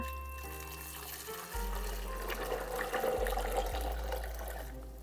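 Water pours steadily into a blender holding soaked almonds over a low electrical hum, a continuous splashing rush that swells slightly toward the end.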